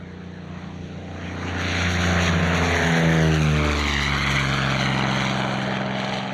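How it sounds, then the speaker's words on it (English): A four-ship formation of P-40 Kittyhawk warbirds flies past at an airshow in Scone, 2022. Their propeller engines make a steady, droning roar that swells and then holds loud, with a sliding pitch as the aircraft pass. No one speaks. "The centrepiece of the show was arguably a 4-ship display of P-40 Kittyhawks."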